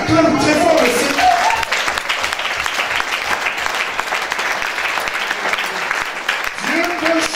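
A church congregation applauds and cheers loudly and continuously, a dense wash of clapping with voices shouting within the crowd throughout.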